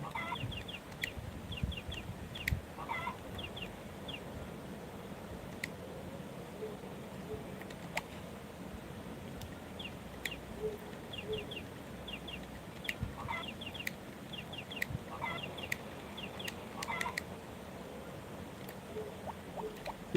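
Chickens cluck in repeated short bursts against a faint, steady background, with scattered sharp ticks and clicks; the calls come from a moderate distance over about twenty seconds, no talk.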